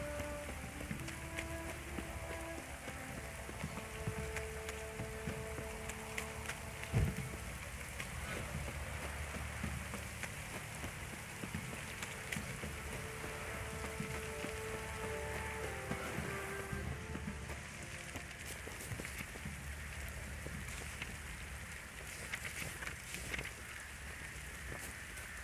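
A constant wash of rain hisses throughout, with soft tonal music playing underneath, from the video game The Witcher 3: Wild Hunt.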